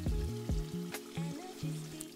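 Beef tongue steaks searing in hot oil in a pan, a crackling sizzle with thumps and clinks of utensils against the pan, close and brief.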